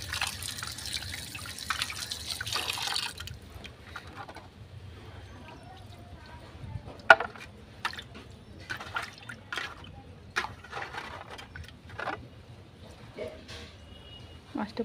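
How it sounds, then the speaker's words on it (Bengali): Baim eel fish, a scaleless fish, is washed with water in a kitchen, giving irregular splashes, drips and trickles at moderate closeness, with a short rush of running water at the start. "মাছটা ধুয়ে নিই।"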